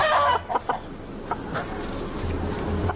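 A chicken clucks a few times at close range, short bursts over a quiet background.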